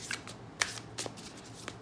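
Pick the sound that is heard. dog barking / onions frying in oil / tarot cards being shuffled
tarot cards being shuffled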